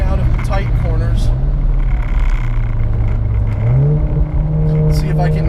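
A 400 HP RevoTechnik Stage 3 VW Mk7 GTI accelerates hard on a racetrack, its engine note climbing steadily and stepping up through a gear change. A driver talks over the loud, close drone.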